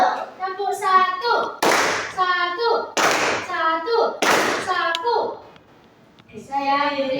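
A class plays a rhythm clapping game, answering a teacher's spoken prompts with sharp, unified group claps at regular intervals, each clap separated by stretches of talk.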